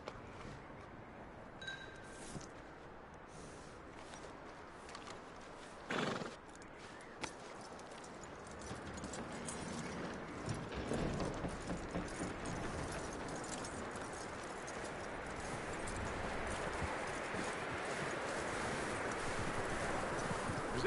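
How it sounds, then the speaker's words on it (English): Horse hooves clip-clopping in Red Dead Redemption 2, a soft steady walking rhythm that builds from faint to moderate over a long stretch with rustling and wind-like ambience, no clear neigh standing out. "That looks like a decent horse."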